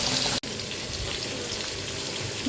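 Water is poured steadily into a bubbling vegetable curry in a fish-curry kitchen, a short soft rush with one brief break near the start.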